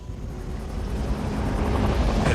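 A helicopter arriving over an African wildlife park brings a broad, rushing rotor roar that grows steadily louder and closer throughout, with no talk.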